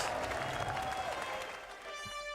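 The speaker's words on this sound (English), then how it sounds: "we want to hear an even bigger cheer for the Nations Cup Grand Final here in Los Angeles" A live audience at the Gran Turismo Nations Cup Grand Final in Los Angeles cheers and applauds, a dense wash of clapping and shouting that fades slightly toward the end, heard alone without speech.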